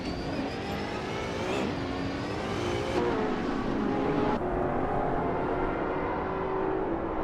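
Saleen S7 twin-turbo V8 supercar racing in a video game, its engine droning steadily with rising and shifting pitch sweeps as gears change, loud and continuous alongside other race cars throughout.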